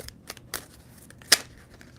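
A deck of tarot cards is shuffled by hand in a quiet room: several quick, crisp riffles and snaps, each brief and close, with one sharper crackle near the end.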